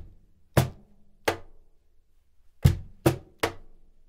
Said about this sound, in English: So if I play the bass, snare, and then move out and play these